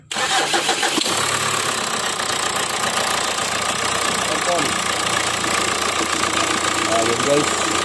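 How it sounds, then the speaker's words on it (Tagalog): A 2014 Kia Sportage engine cranks to life and settles into a steady, fairly loud idle carrying an abnormal mechanical noise, with a voice speaking over it. "Engine noise."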